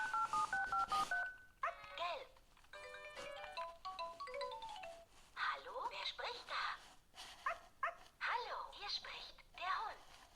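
A children's toy telephone plays electronic dial tones and beeps, then synthetic barking dog sounds in short repeated bursts, fairly quiet and close.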